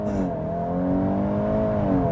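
A 2025 Volkswagen Golf R hot hatch with all-wheel drive and an Akrapovic exhaust pulls hard at full throttle, its engine note a steady, rising drone with clear harmonics, heard from inside the car with no talking.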